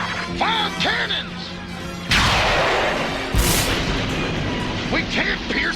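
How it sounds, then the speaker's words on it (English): Cannons fire in an animated G.I. Joe battle, with a heavy crash and a second booming blast over a loud action soundtrack, while voices talk before and after the shots. "Fire cannons!"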